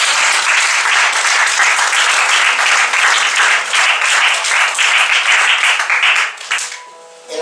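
Sustained, loud applause from a church congregation fills the space evenly, then thins out and fades near the end.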